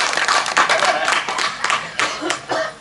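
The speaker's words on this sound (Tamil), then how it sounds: "கைதட்டு" Audience clapping hands at a staged performance, a close, loud burst of applause with irregular claps that fades and swells, with some voices mixed in.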